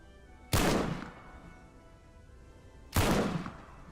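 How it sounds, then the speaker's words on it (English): Two loud, close gunshots from World War I rifles in the shooter game Over the Top: World War I, spaced about two and a half seconds apart, each a sharp crack with a short decaying tail. "Gunshots sound clean."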